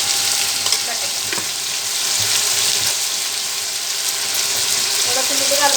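Potatoes with salt sizzle and fry in a pan for sabudana khichdi, a loud continuous crackling hiss with occasional scrapes of stirring, heard close and without voices.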